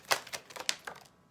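A Rider-Waite tarot deck is shuffled close up, with a quick run of crisp papery riffles and card snaps that fades to quiet near the end.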